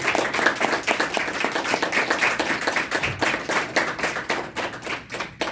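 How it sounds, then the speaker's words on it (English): An audience at the University of Richmond gives a lively round of applause for a guest speaker, steady clapping from many hands, fairly close and alone without talk. "let's give a huge round of applause to Radhesham Das."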